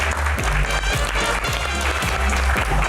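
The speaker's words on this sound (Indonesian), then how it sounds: "Tepuk tangan dong." Studio audience applause on a talk show, dense and steady clapping with a few heavier low thumps, loud and continuous for a few seconds.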